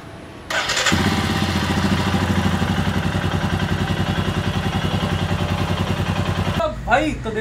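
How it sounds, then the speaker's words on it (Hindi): Motorcycle engine starting up, a brief crank then a steady, loud close-up idle with a chugging rhythm, cut off near the end. "चालू कर दो बाइक।"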